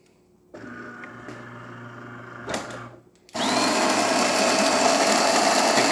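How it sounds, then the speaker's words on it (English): Coffee beans being ground in the built-in grinder of a DeLonghi espresso machine: a low mechanical hum first, then a louder, steady grinding whir that starts abruptly and continues close up to the end. "I'm gonna show you how the grinder is grinding."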